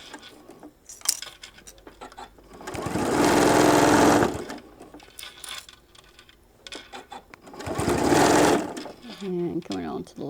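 A sewing machine stitches over a basting line on a shoulder bag in two loud sustained bursts, separated by quiet handling clicks and a voice talking between runs.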